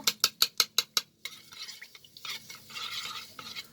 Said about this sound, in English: Now I'm going to mix this mixture.